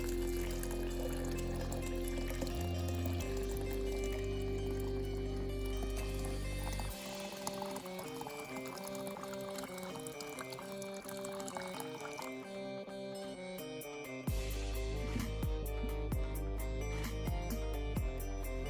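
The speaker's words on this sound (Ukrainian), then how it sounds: "Заливаю це все гарячою водою." Hot water pours steadily over chopped pear in a vessel for tea, the stream's pitch shifting as it fills, with some clinks of dishware along the way.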